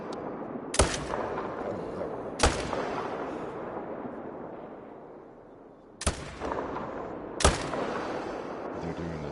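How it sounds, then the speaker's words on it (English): Rifle shots in the hunting game theHunter Call of the Wild, four loud, sharp reports spaced a couple of seconds apart, each followed by a long rolling echo that fades away. "Let's shoot her up the back."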